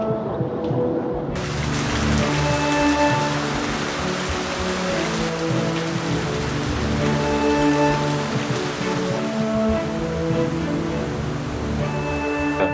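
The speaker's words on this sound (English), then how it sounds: "Kind of like a storm started, to get really loud, raining like crazy." Heavy rain from a storm pours down suddenly in Theth, Albania, and keeps drumming steadily on surfaces, loud and close, with faint tonal sounds mixed in.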